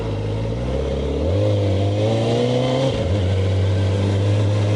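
A Kawasaki ZX-4R sport motorcycle's engine is loud and close, idling low before revving up and climbing steadily, dipping briefly, then holding a strong buzzing drone.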